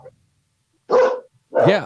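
Excited dogs bark indoors after someone comes home: two loud, close barks separated by a short pause, following a moment of near silence.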